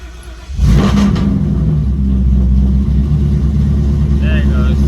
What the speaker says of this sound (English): They probably need to make it where it'll rev up just a little bit and fall down slower